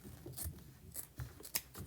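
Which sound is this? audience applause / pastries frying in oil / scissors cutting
scissors cutting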